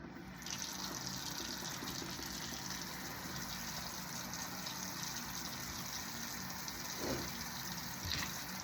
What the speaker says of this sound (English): you're going to turn on the faucet using your paper towel to get your water to lukewarm